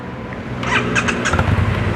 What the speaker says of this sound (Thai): คันนี้คงเป็นท่อเดิมนะครับเดี๋ยวมาฟังเสียงท่อกัน